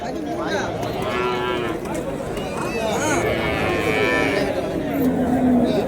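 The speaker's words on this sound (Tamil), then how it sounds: "இது காளைங்களா பெரிய பெரிய காளைங்க" Several cattle, including large bulls, moo loudly and repeatedly, overlapping one another amid constant crowd chatter and bustle at a busy livestock market in Uthangarai.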